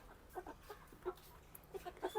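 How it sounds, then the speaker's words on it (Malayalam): Chicks on a small poultry farm cluck softly while eating feed, with scattered short peeps and clucks over a faint background, fairly quiet and at close range. "ഇപ്പം കോഴിക്കുഞ്ഞുങ്ങൾക്ക് വേണ്ട തീറ്റയൊക്കെ ഇട്ട് കൊടുത്തിട്ട് അവർ നല്ല ലൈനായിട്ട് നിന്ന് കഴിക്കുന്നുണ്ട് കേട്ടോ"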